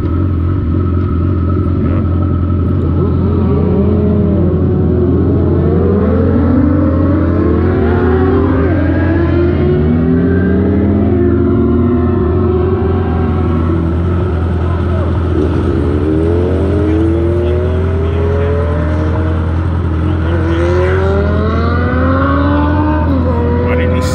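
A loud sport bike exhaust accelerates on the road, with repeated rising engine sweeps as it climbs through gears over a constant low rumble, close and prominent.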